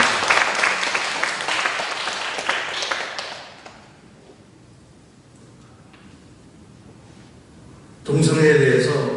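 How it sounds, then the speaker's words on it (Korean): Church audience applause swells for several seconds, fades to near quiet, then a fresh loud burst of clapping breaks out near the end. "박수 한번 쳐주십시오"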